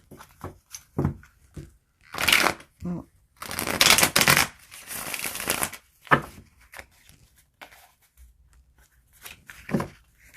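Rapid riffling bursts of a new tarot deck being shuffled, repeated a few times with soft taps and handling noises in between, close up.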